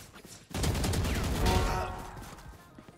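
Gunfire punching through a wall in the Valorant video game, a loud burst of shots that swells, then fades into a lingering rumble.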